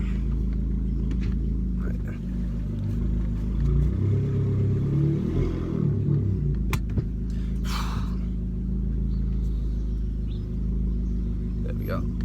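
Vauxhall Corsa being driven, a low steady engine rumble with road noise from inside the car, rising briefly midway, then settling into a constant drone.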